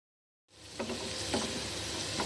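Green chilies and spices hit hot oil in a pan of softened onions for chana dal, a steady close sizzle after a brief silence, with faint stirring scrapes underneath.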